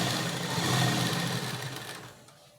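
Sewing machine stitching elastic onto a sleeve, a continuous rapid mechanical whir that swells slightly, then slows and fades out near the end.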